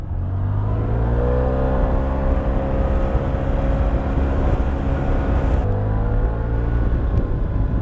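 A Yamaha TMAX 500 DX scooter engine runs in sports mode, a loud, steady close-up drone with a smooth humming tone that holds throughout with a slight shift partway.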